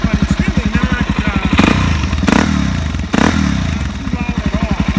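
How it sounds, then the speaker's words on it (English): A 2018 Suzuki DRZ 400 SM motorcycle with a Yoshimura exhaust idles with a steady, fairly loud thumping single-cylinder pulse, interrupted by three short blips of revving before settling back to its even idle. "with that Yoshi exhaust, I thought it would be louder, but it's really not too"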